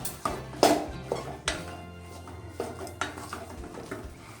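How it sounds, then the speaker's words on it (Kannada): Spiced potato filling being stirred in oil in a pan while making aloo paratha, with a series of sharp metallic clinks and scrapes of a spoon against the pan, fairly close and irregular, without speech. "ಎಣ್ಣೆಯಲ್ಲಿ ಆಲೂಗಡ್ಡೆ ಚೆನ್ನಾಗಿ ಮಿಕ್ಸ್ ಆಗೋವರೆಗೆ ನಿಧಾನಕ್ಕೆ ಕಲಿಸ್ಕೊಳ್ಳಿ"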